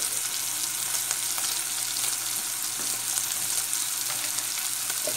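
A spoonful of garlic sizzles steadily in a pan for cassava soup, a close, even frying crackle with faint stirring and no talk.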